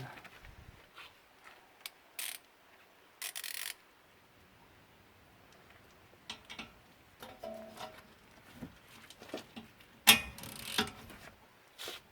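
A ratchet with a 17 mm socket works on a brake caliper bracket bolt in short bursts of clicking, separated by pauses and quieter handling noises, with a sharper clatter near the end.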